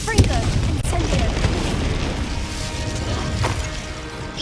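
Fiery spell blasts from the Hogwarts Legacy video game, Confringo and Incendio, boom and crash in a dense, loud, continuous barrage of explosive impacts, with a voice speaking over the din.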